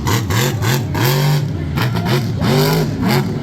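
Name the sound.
monster truck engine revving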